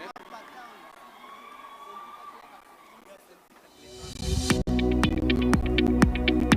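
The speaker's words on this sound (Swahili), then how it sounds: "Wapi makofi tena wakiteremka stage." Audience applause at a live choir battle finals as a Catholic parish choir walks off the stage: quiet murmur at first, then a loud, dense swell of clapping and crowd noise with scattered sharp claps that holds to the end.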